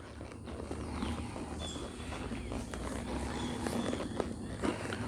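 A horse walks during cow-work training along a fence, its hooves giving soft, fairly regular clip-clops over a steady outdoor background at moderate distance.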